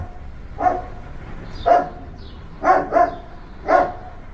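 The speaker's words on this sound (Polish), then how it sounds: "mój pies zatrzymał się i zaczął szczekać w jego kierunku" A dog barks five times, close and loud, in short separate woofs with a quick double bark in the middle, against a quiet background.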